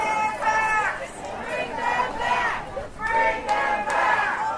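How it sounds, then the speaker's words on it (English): Protest march moving down Ontario Street in Sackets Harbor, a large crowd chanting and shouting in rising and falling waves, voices massed and close throughout. "The crowd swells as people join the march from side streets."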